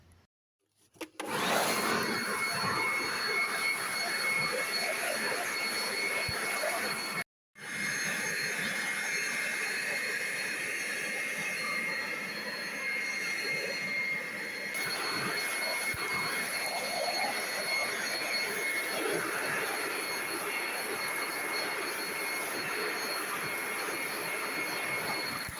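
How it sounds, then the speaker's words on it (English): A powerful blower vac roars continuously while clearing leaves from gutters, loud and close, with one brief cutout before it resumes. "use yourself a nice powerful blower vac. It can be electric or it can be petrol powered"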